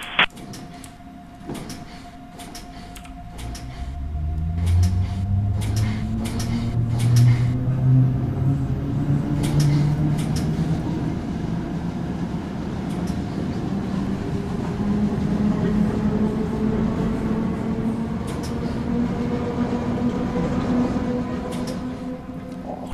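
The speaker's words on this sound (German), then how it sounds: "Zug Viktor nach Teltow-Stadt abfahren." Berlin S-Bahn BR 476 electric train departing in Train Simulator 2021, with door clunks and a beep at first, then rising motor whine and rail rumble building as it pulls away, loud and continuous.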